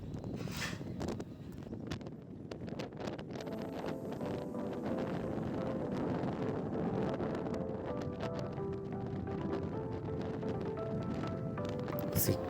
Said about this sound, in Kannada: ಗಾಳಿ ಬೀಸ್ತಾ ಇದೆ ಸೊ ಗಾಡಿ ಓಡಿಸೋದಕ್ಕೆ ಕಷ್ಟ ಅನ್ನಿಸ್ತಾ ಇದೆ